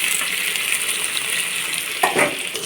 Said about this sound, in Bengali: আমি আলুটাকেও হালকা করে ভেজে নেব